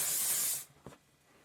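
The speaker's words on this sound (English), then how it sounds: "VO5 Tame and Shine spray." VO5 Tame and Shine hair spray hisses in one steady close burst for about half a second, then cuts off, followed by a soft tap and near silence.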